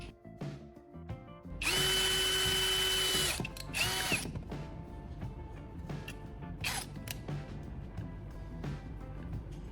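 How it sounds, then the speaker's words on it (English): A cordless drill whines steadily as it bores holes into a plastic casing, one loud sustained run followed by shorter bursts and quieter handling clicks. "I'm taking my cordless drill and carefully drilling holes at the marked points on one side of the"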